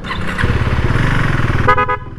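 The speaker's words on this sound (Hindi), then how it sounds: "वापस चालू हो गया हॉर्न" A KTM Duke 390 third-generation motorcycle engine idles loudly and close, then a short horn blast sounds near the end.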